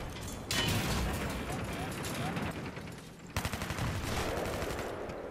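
G36C rifle gunfire in Battlefield 3 on the Caspian Border map, dense rapid bursts of automatic fire with booming reports and game effects, loud throughout, under talk.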